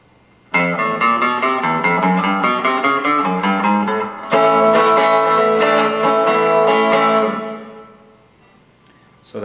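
Electric guitar playing the break from a riff, a loud run of sustained, ringing notes in steady rhythm, with a brief pause midway before the phrase resumes and fades out.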